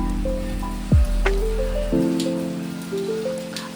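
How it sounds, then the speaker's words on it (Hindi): Rain falls steadily outdoors in rural Tripura, a constant patter on surfaces with a few nearby drips, with no talking. "ये देखो, बारिश आ रहा है"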